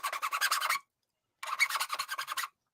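A glass nail file sands a piece of plastic in two bursts of fast, even rasping strokes, about half a dozen each, separated by a short pause, close and clear with no talk.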